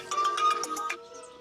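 A mobile phone ringtone plays in a domestic Haryanvi family drama, a bright melodic chiming pattern of several quick repeated notes ringing clearly for about a second before fading.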